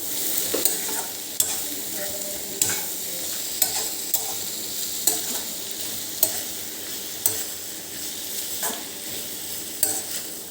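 A spoon stirs an ivy gourd and potato curry in a sizzling pan, scraping in regular strokes about once a second over a steady low fry hiss, close and clear with no speech.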